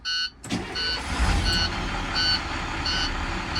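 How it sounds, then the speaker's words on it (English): School bus starting up: a short engine crank and start, then a steady idle rumble carrying repeated high warning beeps at regular intervals, close by. "Okay, I will now turn my bus on."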